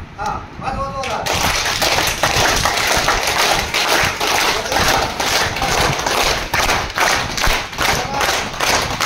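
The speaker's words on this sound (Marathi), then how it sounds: "प्रत्येकाने काय करायचंय, मी सांगेल तशा टाळ्या वाजवायचे" A group of trainees at a training session claps hands loudly and in unison. The dense, rhythmic clapping runs steadily for most of the stretch after a brief opening moment of voices.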